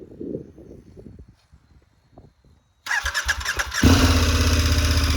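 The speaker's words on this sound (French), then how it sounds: "On va la démarrer histoire de voir un petit peu ce que ça donne." A KTM 1290 Super Adventure S motorcycle cranks and fires up, then settles into a loud, steady, throbbing idle close by, following a few seconds of quiet handling noises.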